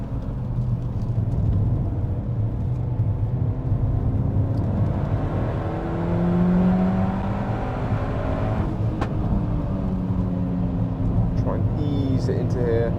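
Peugeot 308 GTi driven flat out on a damp Anglesey Circuit, its engine droning steadily and loudly with rising and falling tones as it accelerates and shifts, road and wind rumble underneath throughout.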